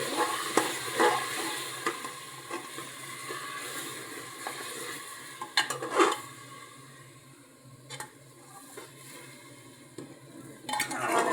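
Marinated hog plums are stirred in a cooking pan, with scraping strokes, occasional metallic clinks and a low background sizzle, heard up close and quiet with no voices.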